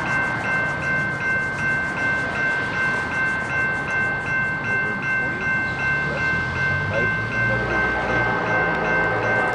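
Norfolk Southern southbound ethanol freight train rolling past at Mableton, Georgia, with a steady loud rumble and a sustained horn tone held throughout.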